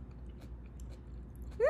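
Close, soft chewing of a soft taco, a few quiet bites and mouth sounds ending in a brief louder crunch-like burst, with no talk.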